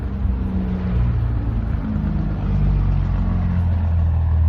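A loud, low truck engine brake (jake brake) rumble chugs steadily, a deep rapid stuttering drone that swells slightly midway, with no talking over it.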